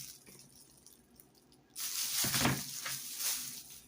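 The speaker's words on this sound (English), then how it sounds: "Just give her a quick couple back and forth on the new sharpener." A fillet knife drawn a few quick strokes back and forth through a new knife sharpener, bursts of bright scraping following a quieter lead-in, close and alone.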